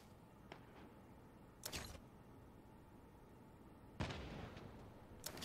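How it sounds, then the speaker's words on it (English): Distant gunfire in the Lost Light 2 shooter game, a few separate sharp cracks spaced a couple of seconds apart, faint and echoing. "Definitely gunfire coming from over that way."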